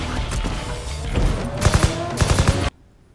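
Rapid bursts of gunfire from the movie Deadpool crackle in a dense fusillade with several sharp peaks, then cut off abruptly into near silence.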